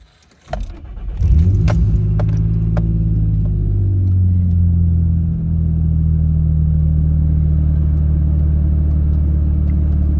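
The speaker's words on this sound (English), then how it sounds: "let's go ahead and fire this up for the first time, see how it idles. This is cold start too." A Nissan Xterra with a P0507 idle fault and a freshly cleaned throttle body does a cold start. Keys jangle, then the engine cranks, catches and surges. It settles into a steady, close idle rumble.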